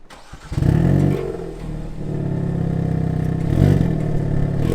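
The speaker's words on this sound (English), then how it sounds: "I'm gonna turn on the engine now." A 2022 Hyundai Kona N engine starting up: a short crank, then a sharp rev flare that settles into a steady, rumbling idle heard close and loud, with a second rise near the end and no talking.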